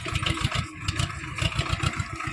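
A tractor engine runs with a steady, low rhythmic chug of pulsing thumps, fairly close and continuous, with a cutting implement hitched behind it while working among trees.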